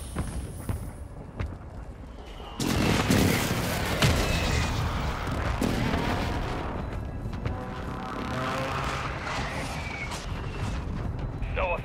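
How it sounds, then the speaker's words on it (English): Precision airstrike explosions in Call of Duty Warzone 2.0 hit as a series of heavy, booming blasts and rumbling impacts over several seconds, loud and close, with voice callouts talking over them. "Hostile precision airstrike."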